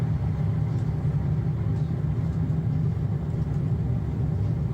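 Aircraft reverse thrust just after touchdown, a loud steady broadband roar with heavy low rumble that holds constant throughout, with no voices over it.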